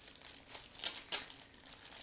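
Plastic bag holding the sprue frames of an Eduard 1/48 Fw 190D-9 Late Profipack model kit crinkles softly as it is handled, with two brighter crisp rustles standing out against faint background rustling.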